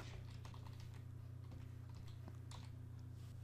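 Quiet, rapid typing on a computer keyboard while entering text in Photoshop 2021, a soft run of close key taps over a constant low electrical hum.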